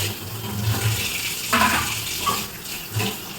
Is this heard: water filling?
yes